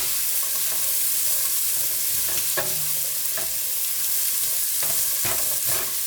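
Vegetables and garlic sizzle steadily in a pot for lentil soup, with a constant loud frying hiss and several soft scraping stirs and tossing knocks, no talking.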